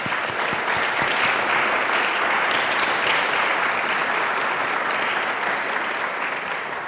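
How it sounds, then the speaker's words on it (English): Steady, sustained applause from a sizable audience at an academic symposium, dense clapping holding at an even level throughout with no talking. "Let's give them a round of applause."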